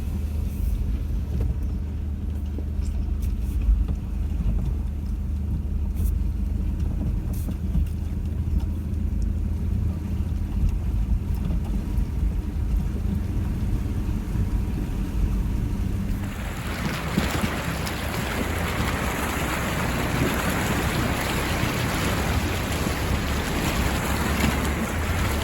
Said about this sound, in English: Anyway, let's get through this river.